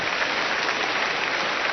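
An audience applauding a government minister at a formal ceremony, a steady, dense wash of clapping with no pauses across the whole short stretch.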